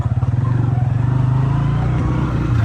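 A motorcycle engine runs steadily nearby with a low, throbbing rumble and a rhythmic pulse.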